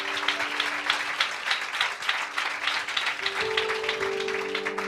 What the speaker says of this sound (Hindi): Shall we also clap hand for the wonderful worship team here?